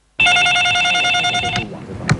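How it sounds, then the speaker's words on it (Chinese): A landline telephone rings at a political party's central headquarters, a steady electronic trill that sounds loud and close for over a second before cutting off, followed by a faint clunk of the handset. "他们打往国民党中央党部的电话一直不断"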